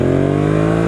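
A Yamaha XSR700 motorcycle accelerates hard in second gear from low revs, its engine giving a loud, close, rising droning growl throughout the short burst.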